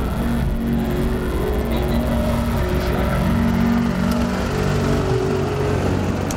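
An IMCA stock car engine on a qualifying lap at a speedway, running rough and unhealthy; a steady, loud engine drone with a continuous low hum holds throughout without pause.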